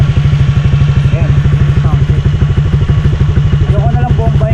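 A Honda Click125 V2 scooter engine with an RCB Flow Pro exhaust idles loud and close, a steady rapid low-pitched pulsing throb with faint voices underneath.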